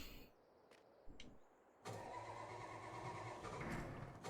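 An old truck's engine starting: faint clicks and quiet rattles at first, then the engine catches abruptly and settles into a steady, fairly loud running rumble.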